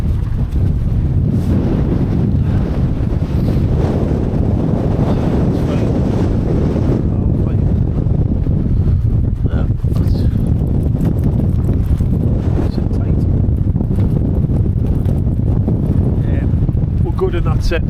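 Strong wind buffets a campsite on Hedgehope Hill in the Cheviots as a loud, constant roar with low rumbling gusts battering the microphone throughout.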